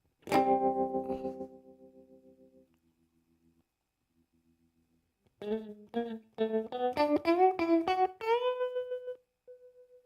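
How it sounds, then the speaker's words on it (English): Electric guitar run through an effects pedal with chorus and distortion: one long sustained chord fading out, a pause, then a run of distorted picked notes climbing in pitch to a held final note, with no talking. "Where's the tremolo coming from? Oh, the chorus."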